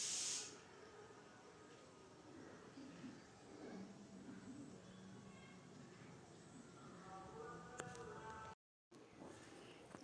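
Masala frying in oil for restaurant-style chole: a soft, steady sizzling hiss that runs the whole time, faint and unbroken apart from a brief cut near the end.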